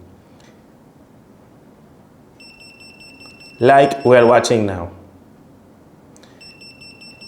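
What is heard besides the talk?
radiation detector alarm beeping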